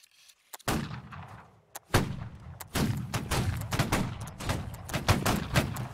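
Musket volleys in Holdfast: Nations At War during a line battle, several loud sharp cracks and rolling reports from many muskets firing in quick succession, some near and some farther off, after a brief quiet start.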